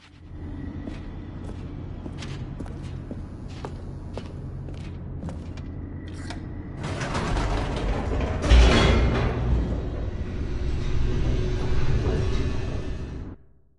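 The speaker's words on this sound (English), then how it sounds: "The elevator raced downward, plummeting towards an unknown fate." An elevator in The Stanley Parable descends with a mechanical rumble and creaks. The low hum is steady at first, then grows into a louder, rushing roar with a thud partway through, and no one speaks.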